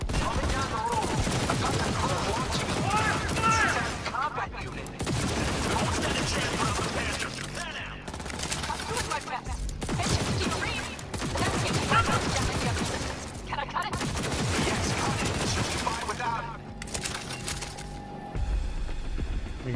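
Rapid bursts of gunfire from the video game Cyberpunk 2077, loud and dense, repeating in long volleys broken by short pauses, with voices shouting over the shooting.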